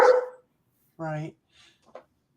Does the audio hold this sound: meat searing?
no